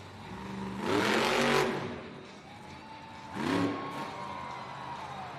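Monster truck engine at a Monster Jam arena event in Baltimore revs hard in two strong bursts, the first longer and louder, with a steady high whine lingering between them.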